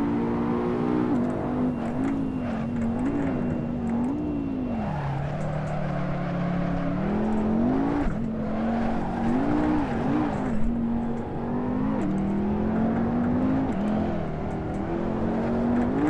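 Race car engine in Assetto Corsa holding a steady droning pitch that rises and dips through gear changes and corners, with tire scrub and sliding mixed in, continuous and close throughout.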